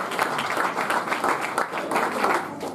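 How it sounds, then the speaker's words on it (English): Audience applause at a cricket club awards night, a steady burst of many hands clapping close by, lasting a few seconds without talk. "Can we give Ilyas a round of applause?"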